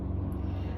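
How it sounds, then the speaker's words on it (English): A steady low mechanical drone with a pulsing throb, like a helicopter rotor droning nearby, constant and fairly loud throughout the short moment. "I'm sorry about the noise. Now it's the helicopter."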